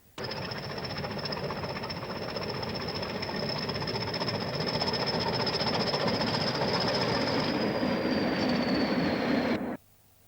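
A Yorkshire Engine Company 0-4-0 industrial locomotive at a scrapyard rail yard runs with a loud, steady rumble and a constant high squeal, continuing for several seconds before cutting off abruptly.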